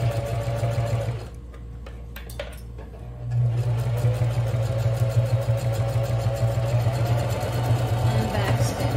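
Sewing machine stitching a fabric bag, a loud steady mechanical hum with a rapid needle rhythm, pausing for about two seconds mid-way for a backstitch with a few clicks, then resuming its continuous whir.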